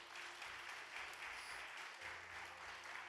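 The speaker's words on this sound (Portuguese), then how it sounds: "Aplauda Jesus" Congregation applause during a church leadership training session, a steady broadband wash of many hands clapping that fills the short moment evenly, with no voices rising above it.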